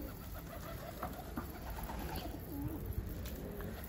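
A pigeon coos softly a few times against a steady background hiss, faint and somewhat distant, with no talking.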